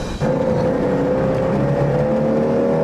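A tiny car's small engine accelerates with two big men aboard, a steady droning whine holding close and loud throughout after a brief dip at the start.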